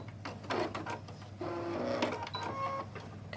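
Close sewing machine stitching forward and then in reverse for a couple of stitches, giving a short, fast mechanical whirring with brief pauses between runs.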